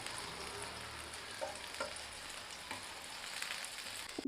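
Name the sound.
food frying in oil in a pan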